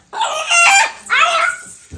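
A rooster crows loudly and close by, one long call with a second burst after it, with a brief low thump near the end.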